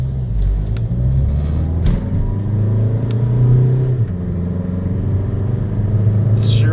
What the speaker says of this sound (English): Engine still sounds the same. Let's see what it's like under load.